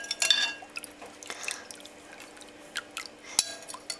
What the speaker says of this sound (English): I'm gonna pour it in my jar to store it